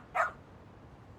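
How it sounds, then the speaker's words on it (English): A single short sniffer-dog bark in the video game Lost Judgment, clear and moderately close against a quiet background hum. "Then sniffer dogs."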